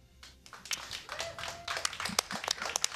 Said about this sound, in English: Claps on our end